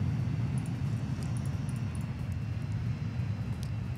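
Aircraft engine drone from a plane taking off in the Transport Fever video game, a steady low rumbling roar that holds constant throughout, with faint high clicks over it and no talking.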